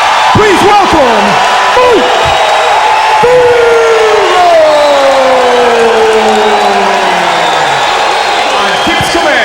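A crowd at a fight night in the Augusta Civic Center in Augusta, Georgia, roars and cheers loudly and continuously, with whoops and a pitched announcer's or crowd voice sliding over the din.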